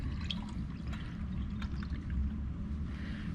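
Water is poured onto copper sulfate pentahydrate crystals in a lab container, a soft, quiet trickle and splash over a low background hum, with no one speaking.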